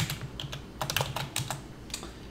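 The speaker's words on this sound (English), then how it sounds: "And basically I just type in CD" Quick bursts of keystrokes on a computer keyboard while entering terminal commands, irregular clusters of close, crisp clicks over faint background hum.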